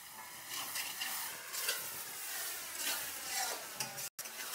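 Chicken masala stir-fried in a pan gives a soft, steady sizzle with scraping and stirring strokes rising and falling, close and moderate, without talk, briefly cut off near the end.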